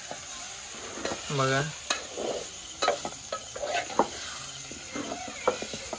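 A spoon stirs masala into a village-style fish curry in a pot, giving scraping clinks and wet swishes in an uneven rhythm close by over a gentle sizzle, with a brief spoken word.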